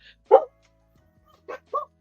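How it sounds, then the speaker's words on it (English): A small bully-type dog barks indoors, giving one sharp close bark followed by two shorter yips after a pause, with quiet surroundings between them. "it's my dog, Tyler."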